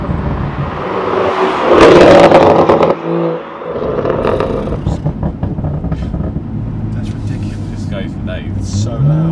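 A BMW M2 F87 with a full iPE exhaust system roars loudly as it revs and accelerates past. Its rasp swells, dips sharply, then rumbles on while people talk over it.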